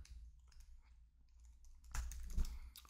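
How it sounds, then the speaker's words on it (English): Typing on a computer keyboard while entering a variable name in a web builder, with quick light key clicks building into a louder, denser burst of keystrokes near the end. "And what we want to do is now type in our variable."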